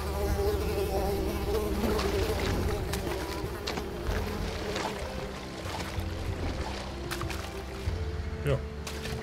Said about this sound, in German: Niedriges Volk, ihr Mücken, geht weg.